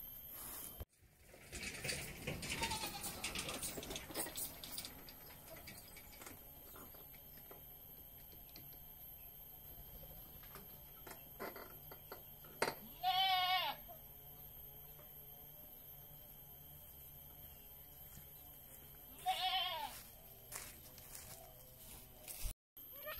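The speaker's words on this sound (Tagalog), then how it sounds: "Ipapastol ko muna itong mga kambing na to." Goats bleat twice while being led out to pasture, each call a short, clear, wavering cry several seconds apart over a steady low background hum, with no talking.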